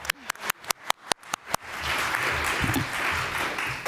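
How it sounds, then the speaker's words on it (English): At a panel discussion, a handful of loud, separate nearby claps quickly swell into full audience applause welcoming the guests, which then carries on evenly until the end. "We can have an applause again for you."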